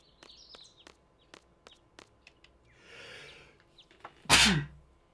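A single loud, sharp human sneeze bursts out near the end, close and abrupt, after a stretch of quiet clicks and faint shuffling while playing the video game Final Fantasy VIII.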